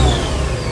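Worn Mercedes V8 AMG engine with 218k miles idling roughly, a steady close low rumble with an uneven, slightly unsteady beat.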